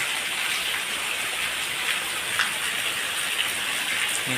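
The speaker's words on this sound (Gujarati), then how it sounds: "જો કેટલો બધો વરસાદ પડ્યો છે, ધોધમાર, અતિ ભારે આગાહી લાગે છે।" Dense, steady monsoon downpour pouring down close by, a continuous heavy hiss with occasional louder drops, no voices.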